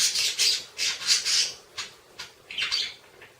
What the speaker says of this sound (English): You know, you can probably hear a bird in the background.